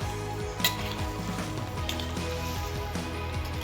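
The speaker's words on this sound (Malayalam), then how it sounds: "നെല്ലിക്ക ഈ എണ്ണയിലും അരപ്പിലും കിടന്ന് നന്നായിട്ടൊന്ന് വഴന്ന് വരുന്നവരെ കുറച്ച് നേരം ഒന്ന് ഇളക്കി കൊടുക്കുക" Gooseberries frying in oil and spice paste for a Kerala pickle, a dense close sizzle with scraping and clinking of a spoon stirring against the pan, steady and fairly loud throughout, no voices.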